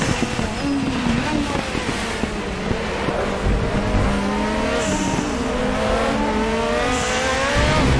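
A Group 5 Zakspeed Capri racing at Zolder in RaceRoom Racing Experience, its loud turbocharged engine roaring continuously up close, with brief high turbo whistles breaking through the shifting engine note.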